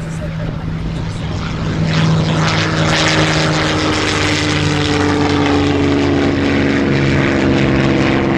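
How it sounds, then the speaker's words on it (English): Rolls-Royce Merlin piston engine of a casualty-carrying aircraft at an RAF Cosford airshow, a loud steady propeller drone with deep harmonic growl easing as the throttles come back, under a commentator's voice. "The lovely growl of the Merlin engine as the throttles come back"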